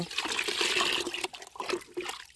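Pesticide mixture poured into a sprayer pump tank in a cumin field, a steady splashing gush of liquid with some trickling toward the end, heard up close.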